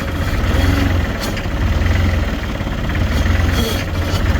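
A truck engine idles steadily in gear with chains on and one wheel locked up, a continuous low rumble with mild vibration close by, no talking over it.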